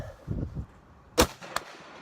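A single sharp gunshot cracks out at an outdoor shooting range, followed moments later by a fainter second report; a few quiet voices murmur just before the shot.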